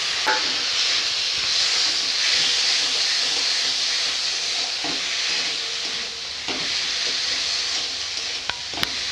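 Chopped tomatoes sizzle loudly and steadily in a hot pan while cooking a home-style katla fish curry with peas, a continuous close hiss broken by a few sharp clinks of stirring.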